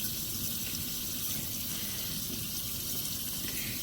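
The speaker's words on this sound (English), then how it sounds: "You have to have a hole in the middle, and you need to fill this with water." Water poured into a hole in the middle of a rappie pie (Acadian six pâtes) before cooking: a loud, steady gushing pour like a running tap, continuous and close.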